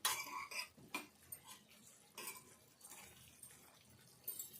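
Curry being stirred in a pot with a spoon, a series of short metallic clinks and scrapes against the pot, quiet and close, with pauses between strokes.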